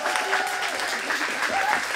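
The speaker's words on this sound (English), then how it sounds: "Please give them a round of applause." An audience claps in a dense, steady burst of applause, with a few voices rising faintly over the clapping.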